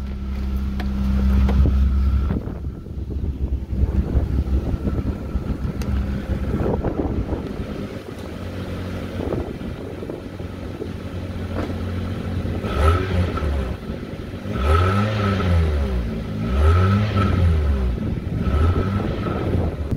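A Honda CRX from the 1980s idles and then revs several times, the engine climbing and falling in repeated swells near the microphone amid some wind noise, with no talking.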